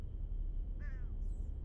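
A single harsh bird caw with a rising, harmonic call rings out in the horror game Condemned, brief and fairly close over a low, steady ambient rumble, followed by a fainter high chirp.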